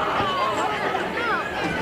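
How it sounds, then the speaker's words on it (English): Crowd noise at a high school football game between the Farmington Knights and Central Rebels, a sustained murmur of disapproving voices and shouts from the stands, steady and moderately loud throughout. "Crowd did not like that at all."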